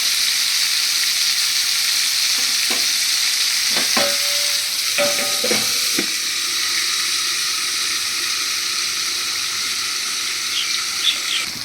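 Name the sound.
shrimp, potato and pumpkin frying and being stirred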